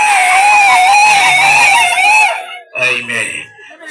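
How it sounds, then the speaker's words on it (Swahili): A congregation at an open-air gospel meeting raises loud, high-pitched ululating cries of praise that end suddenly. A few voices follow faintly. "Sasa makofi na utukufu mbele za Mungu."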